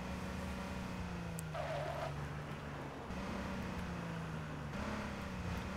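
Police car driven in the video game H1Z1, its engine a steady droning hum with rising and falling pitch as it accelerates, plus brief tire scrubs and skids, no speech.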